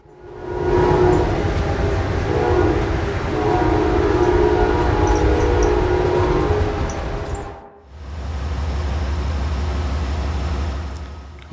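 An Amtrak Vermonter passenger train running between New York and St. Albans, Vermont, gives a loud, steady rumble with a sustained tonal hum, then briefly drops out and resumes as a lower, heavier roar.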